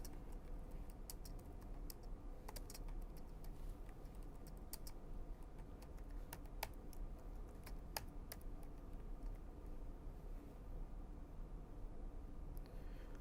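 Keys clack on a computer keyboard as a Java program is typed, with sparse, irregular clicks scattered over a steady low background hum and no talking.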